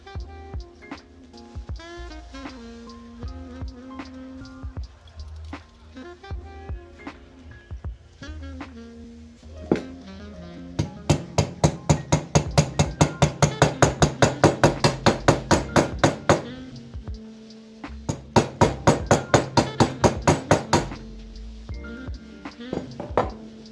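A large socket hammered to drive a shift shaft seal into a Honda CX500 engine case, with bursts of rapid metallic ringing taps, close and loud, under and between speech.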